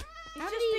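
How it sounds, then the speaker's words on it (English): A cat meows in a video game, a drawn-out rising and falling call that swells to a loud finish, with a voice talking around it. "Cats! Back away, cat!"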